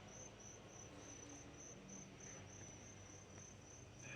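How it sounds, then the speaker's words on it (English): Crickets chirp steadily in a town park, a continuous high trilling pulsing in an even rhythm over a low background hum, moderately distant and unbroken. "I hear some crickets."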